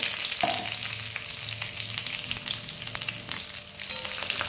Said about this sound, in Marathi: एका कढईमध्ये 1 चमचा आपण तेल घ्यायचे। यामध्ये आपण हे वांगे टाकून घ्यायचे।